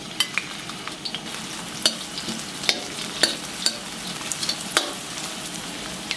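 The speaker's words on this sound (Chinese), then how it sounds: "油热把葱姜蒜下锅爆香" Scallion, ginger and garlic fry in hot oil in a wok, giving a steady sizzle punctuated by sharp scraping clicks of a spatula stirring, at moderate loudness with no talking.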